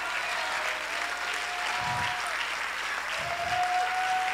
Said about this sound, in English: If I'm helping you, can you clap your hands right now?